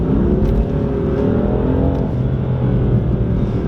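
A BMW M4 engine note piped artificially through the car's cabin speakers, a loud, steady droning rev that rises slightly, with constant road rumble underneath.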